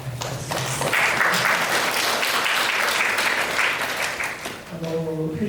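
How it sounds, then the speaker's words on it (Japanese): An audience at a lecture on photograph conservation applauds to welcome a visiting speaker from France, a full, even burst of clapping lasting several seconds, framed by a host's voice speaking at the start and end. "改めて、拍手をお願いいたします。"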